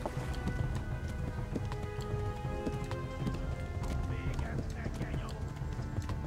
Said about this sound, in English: This horse is gonna get tired.